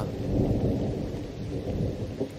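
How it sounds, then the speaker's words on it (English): Cartoon thunderstorm: a deep, continuous roll of thunder layered over steady heavy rain, loud and close for the whole stretch, with no voices. "You gotta get out of the rain, little guy."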